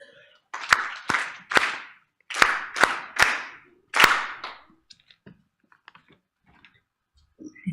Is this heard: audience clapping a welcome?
yes